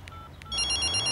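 A telephone rings in a Tamil film scene, giving a rapid electronic trill that starts after a couple of soft beeps and repeats its pulsing tone loudly over low background hum.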